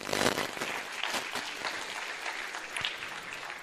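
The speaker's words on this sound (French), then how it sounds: "que je demande d'applaudir très fort" A graduation ceremony audience for a medical school class applauds, a dense spread of clapping that swells briefly and then settles into a steady moderate patter, with no voices over it.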